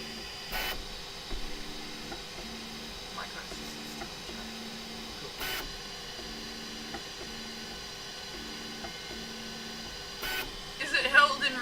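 Anycubic Kobra S1 3D printer running its bed-leveling routine: faint, steady motor tones stepping in repeated short patterns under a low hum, with occasional brief clicks and a small burst of activity near the end.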